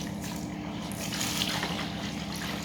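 Wort from a Grainfather G70 all-in-one brewing system drains through its running pump, a continuous close trickling, sloshing liquid flow over a steady low hum, with no talk.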